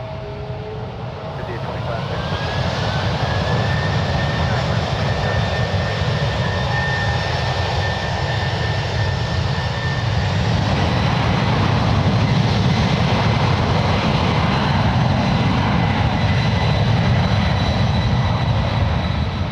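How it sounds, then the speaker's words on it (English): A heavy jet on its takeoff run at San Francisco International Airport, its engines building to a loud, steady roar that rises and holds, mixed with a sustained broadband rumble and a faint whine. "runway 1 right, clear for takeoff."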